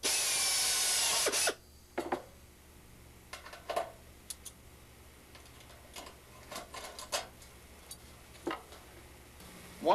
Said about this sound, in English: Now we essentially just back drill right into our ribs,